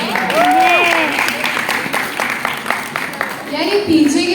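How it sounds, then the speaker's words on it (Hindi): Applause at a Hindi Diwas celebration at a fashion institute in Hyderabad, a moderate wash of clapping from the crowd, mixed with voices and talk throughout. "जोरदार तालियां हो जाए फिर से।"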